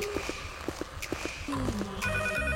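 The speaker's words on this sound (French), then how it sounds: "je vois que le téléphone sonne" A telephone rings in short repeated electronic trills, fairly faint and mixed with footsteps and other background noises, with a louder tonal sound near the end.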